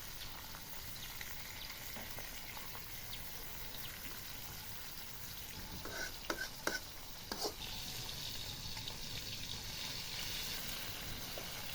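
Pieces of rohu fish fry in a pan of oil seasoned with cumin, producing a soft continuous sizzle with a few clinks and stirring sounds in the middle, quiet and without speech.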